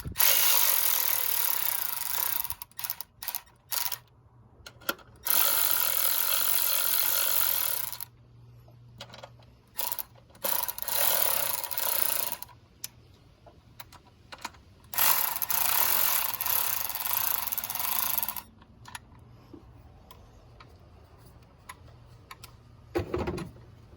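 A part being hand-threaded and tightened onto a Chevy Silverado throttle body, with repeated ratcheting clicks in bursts and pauses, close up and fairly loud.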